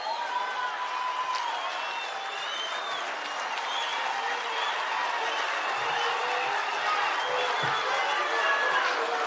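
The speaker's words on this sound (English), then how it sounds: "Another round of applause." A large crowd at the Gauteng ANC provincial conference applauds in a hall, a sustained, even wash of clapping with faint voices and whistle-like tones mixed in.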